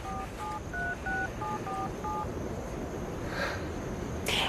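Cell phone being dialed to place a call, a quick run of eight short, clean keypad tones in steady rhythm over a faint background hiss, followed by a soft rustle.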